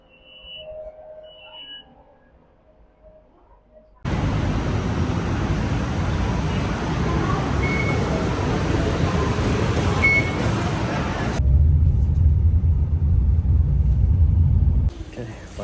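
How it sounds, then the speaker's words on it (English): Bangkok BTS skytrain pulling into a station: a quiet start, then a sudden loud, broad rumbling rush that holds steady for about eleven seconds and shifts to a deeper drone before dropping away, with a voice faintly audible. "All right, here comes our train."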